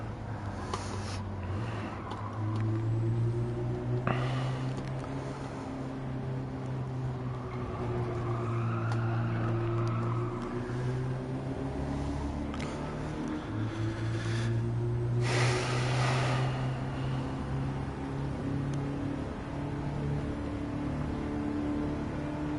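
Racing car in Gran Turismo 7 played in PSVR 2 with a Logitech G29 wheel: a steady engine drone rising and falling with the throttle through shifts, with occasional brief bumps and scrapes, continuous and fairly close.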